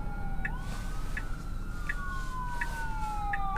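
A fire engine or ambulance siren wails near a hospital, its rising and falling tone sustained throughout, with repeated short horn-like blips over steady road noise from inside a car.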